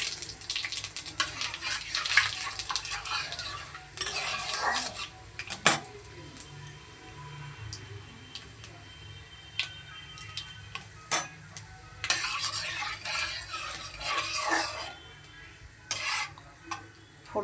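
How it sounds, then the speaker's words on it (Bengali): Dried red chillies, bay leaves and five-spice seeds tempering in hot oil for a mixed vegetable curry: a steady close crackle with louder bursts of spattering and occasional sharp clicks from stirring. "তাতে ফোড়নে দিয়ে দিচ্ছি শুকনো লঙ্কা, তেজপাতা আর পাঁচ ফোড়ন।"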